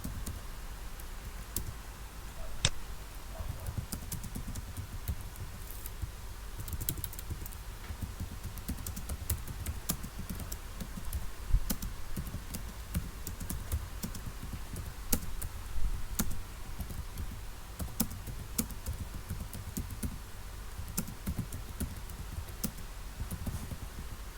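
Steady computer-keyboard typing runs throughout while someone enters details into a make-up booking website form, a dense patter of quiet key clicks with no speech.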